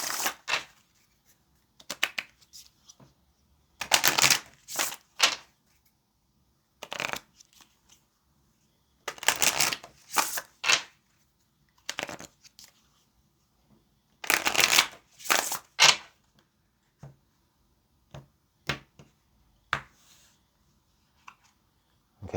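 Oracle cards shuffled by hand for a tarot reading, in repeated bursts of crisp riffling and slapping, close and clear, separated by short pauses, with no talking.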